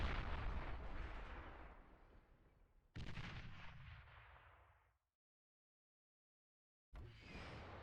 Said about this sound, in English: what's strong about this rocket launcher is the fact that it can just freely attack all of those